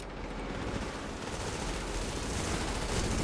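Heavy gunfire during a firefight in the video game The Division, a dense, loud fusillade of overlapping shots and bursts roaring on without pause.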